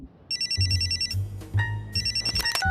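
A phone rings in a repeating electronic ringtone pattern, bright chirping bursts cycling several times, over a low rumbling background.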